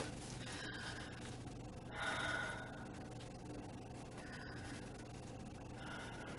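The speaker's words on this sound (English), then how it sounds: "couple nice deep breaths." Slow, deep breaths during a medical exam, heard as soft airy inhales and exhales at a calm, even pace over faint background hum.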